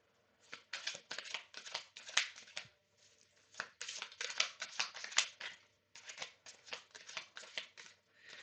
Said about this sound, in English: so they're not shuffling very well at all right now